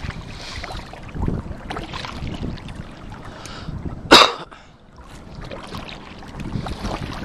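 Kayak paddling on the Chickahominy River in fall, soft repeated paddle splashes and water swirls close by, with one sharp brief burst midway and a light breeze; no talk.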